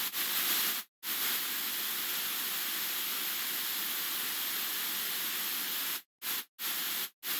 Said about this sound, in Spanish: Y con ruido voy a diseñar una batería.